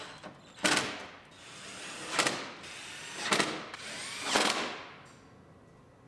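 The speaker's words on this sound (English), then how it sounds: "We'll tighten up the bolts" A power tool tightens hood bolts on a 2019 GMC Sierra Denali HD, four short rising whirring bursts spaced about a second and a half apart, close and fairly loud over a low background hum.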